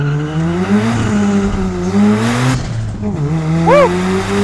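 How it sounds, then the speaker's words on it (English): Mazda RX-7 with 417 horsepower and a 255-section rear tire launching uphill in first gear, engine revving hard with a rising whine and a brief squeal of rear wheel spin, loud and close. "A little bit of wheel spin there. Lit that 255 section rear tire right up."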